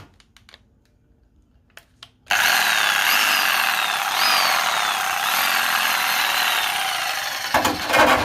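Power tool cutting through the inner guard panel of a Holden Barina during a bike motor conversion, starting abruptly after a quiet moment and running loud and continuous with repeated rising whines, close by with no talking.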